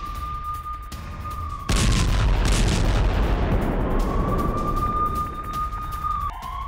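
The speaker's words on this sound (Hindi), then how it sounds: "गाजा पट्टी में आईडीएफ का बड़ा हमला, स्वाति बटालियन पर स्ट्राइक।" An IDF strike in the Gaza Strip: a sudden heavy blast rumble erupts and rolls on for several seconds, while a wavering siren tone sounds before and after the explosion.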